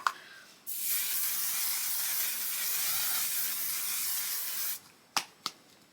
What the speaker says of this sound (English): spray our face